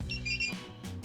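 A Geprc Vapor D5 drone beeps as it binds to its remote: a few short, high electronic tones sound close by over a low background hum.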